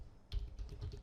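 Quiet typing on a computer keyboard, a handful of soft keystrokes in quick succession, faint and close.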